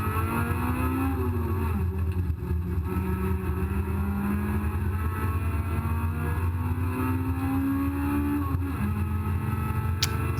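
A race car at Cadwell Park drones steadily at close range throughout, its engine note rising and falling with gear changes and throttle through the corners.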